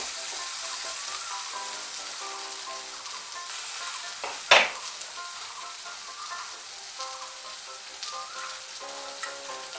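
Bitter gourd fries with turmeric in a pan, giving a soft, continuous sizzle and crackle at low volume, with one brief sharp knock of a utensil near the middle.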